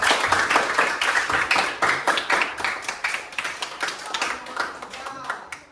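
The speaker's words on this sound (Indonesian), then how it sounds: "Tepuk tangan untuk kelompok 4." A classroom claps for a student group, a lively burst of many hands in quick, uneven rhythm that slowly thins out over several seconds.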